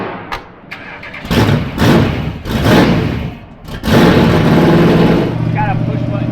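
A Mopar muscle car engine rumbles and revs in loud, booming swells as it drives through a large echoing tunnel, with talking mixed over the roar.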